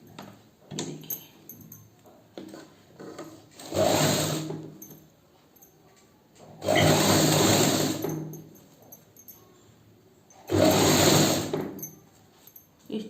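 A sewing machine stitches a sleeve seam in three loud bursts of whirring, each lasting a couple of seconds, with quiet handling noises between them and no speech.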